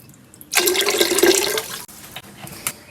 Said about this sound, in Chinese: 上高压锅，锅中加水